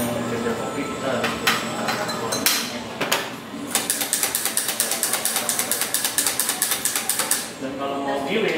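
A coffee grinder milling coffee beans during cupping, a loud, harsh mechanical grind with rapid rattling clicks through the middle. Indistinct voices sit underneath.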